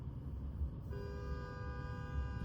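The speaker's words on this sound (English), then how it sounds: "He's just sitting on the horn." A car horn honks continuously in traffic at a red light. After a second of road rumble, the horn comes in and holds one steady tone without a break to the end.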